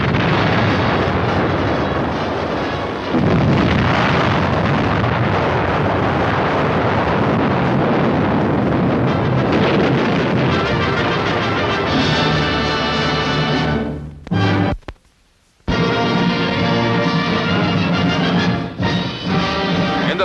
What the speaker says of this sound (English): B-36 drops its still-secret payload of over 200 quarter-ton bombs,